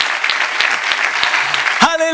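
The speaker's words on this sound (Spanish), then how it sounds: "Denle un aplauso al Señor" A church congregation claps for the Lord during a sermon, producing dense applause with a few louder claps. A voice cuts in sharply near the end.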